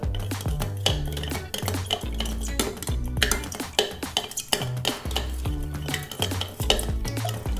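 A spoon clinks and scrapes steadily against a pot as 28 grams of sugar are stirred into a home-made ginger beer mixture of ginger with its skin, with a rapid, continuous rhythm, close and loud, and no voices.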